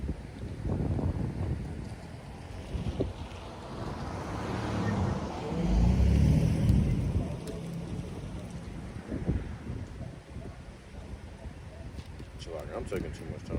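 Strong wind gusts buffet the microphone outdoors at a campsite as a steady, loud roar swells and peaks mid-way, while someone talks over it.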